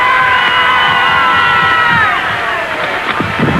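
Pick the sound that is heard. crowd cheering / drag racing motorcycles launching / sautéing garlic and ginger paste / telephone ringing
crowd cheering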